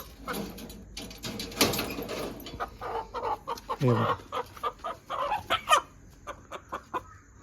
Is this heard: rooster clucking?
yes